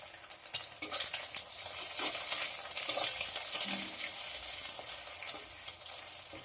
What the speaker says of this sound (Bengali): গরম তেলের মধ্যে যে ডিমটা ফাটিয়ে রেখেছিলাম সেটা দিয়ে দেব ভুজিয়া করার জন্য